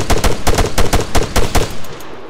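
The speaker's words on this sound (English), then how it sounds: "I'm gonna shoot at it now." Video game gunfire in a market area, a rapid burst of about a dozen loud, evenly spaced shots in automatic rhythm, tapering off at the end.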